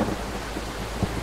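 A thunderstorm rumbles in the BUSSID bus driving game, with thunder under a steady wash of heavy rain and a short, low thump near the end.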